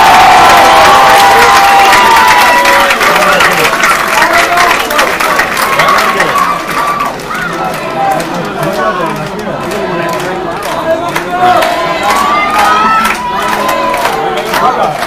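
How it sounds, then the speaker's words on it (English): A large stadium crowd at a France versus England rugby final roars and chants, with rhythmic group shouts and cheering swelling loudly and continuously, mixed with broadcast commentary. "And the crowd erupts with an Allez la Bleu"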